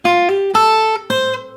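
Plucked acoustic guitar playing a short fingerstyle melody in three phrases, with bright ringing harmonics and bass notes pinched together with the first string; close and clear, no talking.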